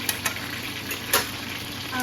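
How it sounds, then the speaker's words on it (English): Chicken thighs sizzle softly in hot oil in a pan, a steady crackling fry with a few brief pops and stirring sounds. "We are going to let that oil stop boiling for a second"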